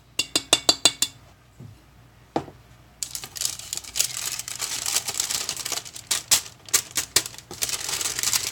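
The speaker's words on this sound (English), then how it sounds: "Tap off that excess." Glitter-coated glass mason jar tapped to shake off excess glitter: a quick run of sharp glassy taps, a pause with one knock, then a long, dense stretch of rapid light clicking and rattling up close.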